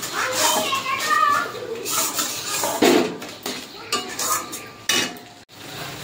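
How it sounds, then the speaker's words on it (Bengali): Spice paste with grated tomato is stirred and sautéed in a pan for a potato and fish curry, with metal utensils clattering and scraping against the pan while voices talk and children play in the background. "ভালো করে মশলাটা কষিয়ে নেব।"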